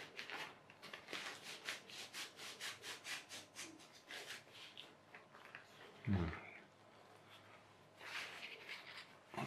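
A spar on a Günther Air Sport Flash 170cx stunt kite slides out of a plastic connector with faint, repeated rubbing strokes, then a soft knock midway before the rubbing resumes.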